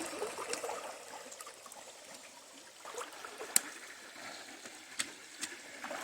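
Water swirls and trickles around legs wading through a cold river stream on the Appalachian Trail, with soft splashes and a few sharp sloshes close by, no voices.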